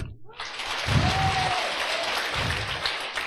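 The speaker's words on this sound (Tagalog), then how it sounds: "Palakpak." A church congregation clapping during an Ilocano sermon, a dense burst of applause filling the room, loud and sustained for several seconds with a faint voice in the background.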